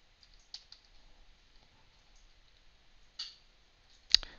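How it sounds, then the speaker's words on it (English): A few scattered, sharp clicks of keys on a computer keyboard as a password is entered, with long pauses between the taps and a louder final keystroke, quiet and close. "Type in the password to start the test."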